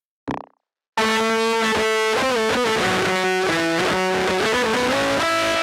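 After a short breathy burst and a pause, a vocal line run through a distortion effects pedal plays continuously, heavily distorted, buzzing, gritty and saturated with shifting pitches.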